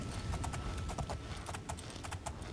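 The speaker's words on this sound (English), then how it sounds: "Shut up, horse." Horse hooves clip-clopping steadily in the video game Oblivion, a brisk, close, continuous trotting rhythm with no other sounds over it.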